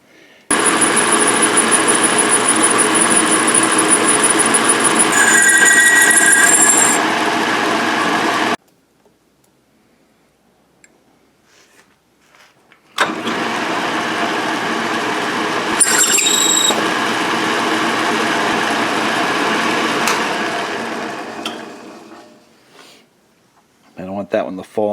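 A lathe turns galvanized muffler outlet tube stock, cutting off the plating with a steady, loud whirring drone and high squealing tool contact, running for about eight seconds, pausing, then running again for about seven seconds.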